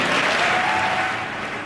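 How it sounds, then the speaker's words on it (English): Thunderous applause fills the chamber of Congress during the Pope's address in Washington, D.C., a dense, sustained roar of clapping from a large crowd that holds steady for the whole stretch before easing slightly. "Thunderous applause there"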